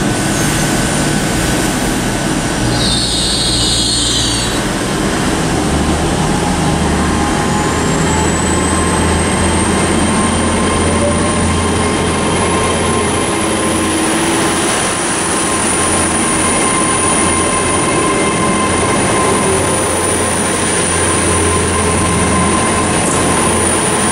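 An LNER Class 800 train, unit 800-209, pulling away from Carlisle station on the West Coast Main Line, a steady loud rumble with rail noise and a rising whine held throughout at close range, no talk.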